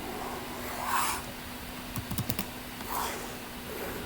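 Computer keyboard typing, a quick burst of four or five close, crisp keystrokes midway through, with soft rustling movements before and after over a faint steady hum.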